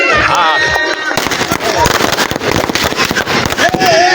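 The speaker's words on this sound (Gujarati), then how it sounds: "ફટાકડા ફોડે છે" Firecrackers bang during a Holi bonfire celebration, a rapid irregular string of sharp cracks and pops going off close by after a short lull, with voices talking over the bursts.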